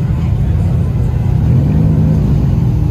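A Mazda RX-7 at a JDM car meet gives a steady, loud, low engine rumble close by, running throughout without clear revving peaks.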